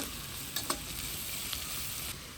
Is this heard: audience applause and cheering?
no